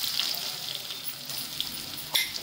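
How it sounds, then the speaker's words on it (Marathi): Cumin seeds and crushed garlic sautéing in hot oil for a wild vegetable dish, a soft continuous sizzle with occasional faint clicks of a spoon against the pan. "लसूण चांगला परतून घ्यायचा"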